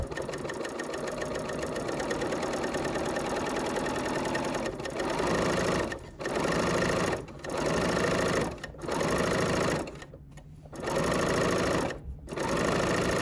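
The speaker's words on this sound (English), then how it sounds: "Now I could also sew a lot faster if I wanted to" A sewing machine stitches a re-usable tote bag in steady, fast bursts of mechanical whirring, stopping briefly between runs, close and loud with no talking.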